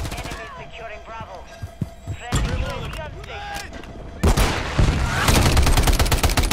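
Gunfire in the video game Rust, with sparse shots at first, then dense, loud sustained bursts of automatic fire near the end, mixed with game voice radio chatter.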